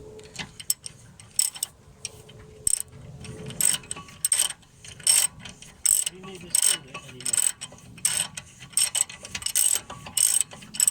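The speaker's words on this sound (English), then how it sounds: "So now we use the 17mm ratchet to do the bolts up again." A 17mm ratchet clicks in repeated short bursts while tightening the front brake caliper bracket bolts on a 2003-2008 CL7 Honda Accord. The close, rhythmic pawl ticking runs steadily throughout with no voices.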